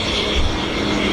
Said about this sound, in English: But watch now as the PC9M regains the display line along the main runway.